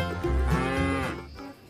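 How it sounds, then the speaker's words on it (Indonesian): A toy buffalo gives a long, loud electronic moo lasting over a second, close and alone, with harmonic tones that fade out at the end. "Ini ternyata ada kerbau."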